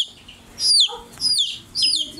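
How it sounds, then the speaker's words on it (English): High, shrill cheeping from three abandoned baby chicks, coming in short repeated bursts of descending peeps, close and fairly loud with brief quiet gaps between calls. "Three abandoned chicks."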